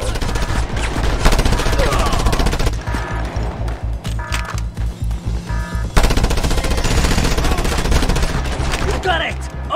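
Mounted machine gun firing in the Just Cause 2 video game, loud rapid bursts of close automatic fire with a brief pause mid-sequence before resuming, amid dense in-game combat noise.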